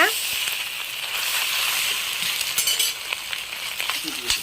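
Boiled macaroni is stirred into egg and chilli in a hot pan, making a bright sizzle that turns to uneven scraping and clinking as the spoon works through the mixture.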